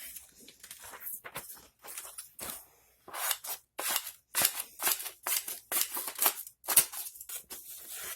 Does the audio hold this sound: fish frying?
no